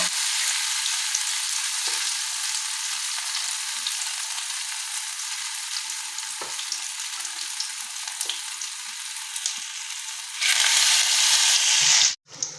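Bora fritters frying in a pan, a dense steady sizzle of hot oil that swells louder near the end before cutting off abruptly, with occasional faint clicks and no voices.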